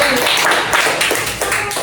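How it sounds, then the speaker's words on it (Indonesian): Students in a classroom clap briefly together, a loud burst of mixed hand claps with a voice or two underneath. "Tepuk dulu."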